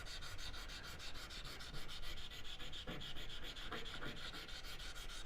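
A thin metal shim from a Jaguar 5.3 liter V12 cylinder head overhaul rubbed back and forth on a sharpening stone, a steady close gritty scraping with even rhythmic strokes and no talk.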